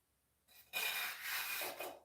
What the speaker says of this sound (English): I'm gonna scrape out this grease.